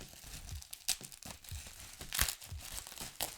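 Plastic sleeve packaging around Japanese Michael Jackson collectibles is pulled open, giving soft, close crinkling and tearing with a few sharper crackles throughout. No one talks.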